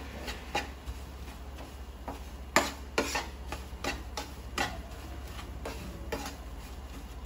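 Besan (gram flour) stirred and roasted in a pan over low heat, giving a steady run of soft scraping ticks and clicks, close and faint, with a few sharper knocks of the spoon against the pan.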